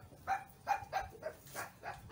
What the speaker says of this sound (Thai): มันเห่าอะไรไม่รู้ฮะ